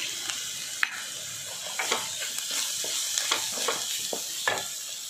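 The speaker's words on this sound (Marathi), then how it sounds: "मिश्रण छान परतायचं आहे." Capsicum kiaras with jaggery, sesame powder, tamarind and coriander is stir-fried in a pan: a steady frying hiss with frequent close spatula scrapes and taps, no voices.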